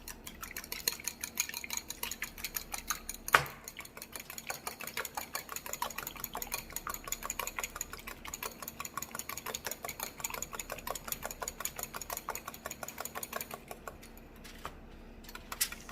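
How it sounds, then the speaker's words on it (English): A whisk beats egg whites into meringue in a bowl, rapid steady ticking strokes repeating evenly for the whole stretch, close and fairly quiet, with a sharp clink near the start and no talking. "We are then going to whisk these egg whites until they turn to a meringue-ish, cloud-like"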